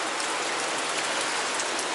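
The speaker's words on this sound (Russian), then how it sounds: "Вот оттуда выходит вода." At a recreation base in Benoy, Chechnya, water pours and drips in a dense, even hiss like heavy rain, loud and close, with no voices.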